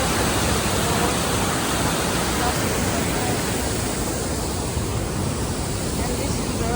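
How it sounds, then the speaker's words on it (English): Morton Falls near Campbell River, British Columbia, roaring close by as a continuous loud rush of falling water, broad and unbroken, with no voices over it. "I love the sound. For hours just to listen to the water."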